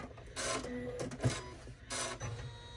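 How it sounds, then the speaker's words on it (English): An embroidery machine's thread cutter runs in short mechanical bursts, three or four whirring, buzzing pulses close by with brief pauses between, after stitching a mini zippered tote bag in a single hooping. "As soon as I hear the thread cutter stop, I'm going to lift up the presser foot"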